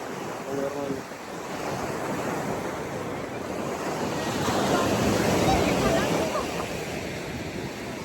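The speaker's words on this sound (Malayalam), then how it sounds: "വെള്ളം അടിച്ചു കയറി വരുന്നത്" Sea waves surge and wash ashore on a beach in a continuous roar, swelling louder midway, with wind buffeting the microphone.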